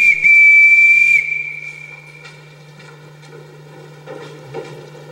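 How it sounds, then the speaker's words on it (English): A shrill, sustained whistle blast sounds loudly for about a second on a high school stage during The Sound of Music, then fades, leaving a faint hum and scattered soft noises. "Everyone in this house answers to a whistle."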